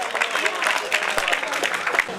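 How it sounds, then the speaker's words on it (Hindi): Audience applause at a gathering, dense and steady clapping from a crowd throughout, fairly close and moderately loud. "जोरदार तालियों से इन सभी का स्वागत करें"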